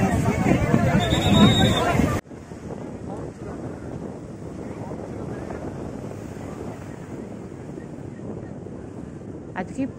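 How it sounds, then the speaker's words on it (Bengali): Heavy sea waves pound Digha beach in a continuous roar of surf blended with gusty wind buffeting the microphone, following a brief burst of close talking at the start. "আজকে প্রচণ্ড ঢেউ"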